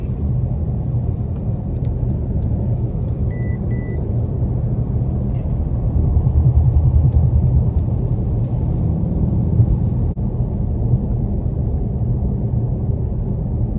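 A 2020 Mercedes-Benz S63 AMG driving fast, heard from inside as a steady, loud low engine and road rumble that swells slightly midway, with no talking.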